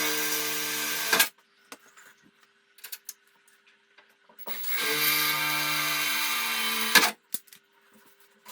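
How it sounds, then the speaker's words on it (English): Two bursts of a power drill whirring through a metal frame, each lasting a couple of seconds, separated by quiet clicks and handling noise. "I drill holes in the metal frame,"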